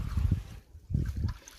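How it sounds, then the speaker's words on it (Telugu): Water laps and splashes against a small boat out on a freshwater lake at a bird sanctuary, coming in two short bursts close to the microphone with a faint breeze between them. "విన్నారు కదా వాటర్ సౌండ్ ఎంత బాగుందో,"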